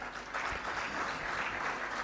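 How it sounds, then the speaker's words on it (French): An audience at an international crypto-asset and digital innovation conference claps to welcome a speaker, a soft, steady round of applause heard from a distance. "je vous invite à l'applaudir bien chaleureusement"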